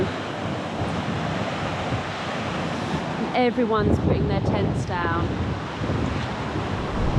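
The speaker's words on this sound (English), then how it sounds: "Look at the river, it's just gushing." A river gushes during heavy wind and rain at a wild campsite, a loud continuous rush mixed with gusting wind, while a person speaks briefly midway.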